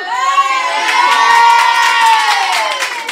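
Girls' football teams at a youth tournament cheering and shouting together, a loud sustained high-pitched crowd of young voices rising and holding close by, with some clapping beneath it.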